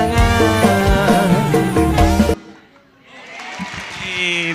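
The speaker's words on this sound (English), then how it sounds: "big applause for everyone for Taman Curug dance" Audience applause after a Taman Curug dance performance at a climate change seminar: music ends abruptly, then scattered clapping from the crowd swells gradually, moderately loud and a little distant.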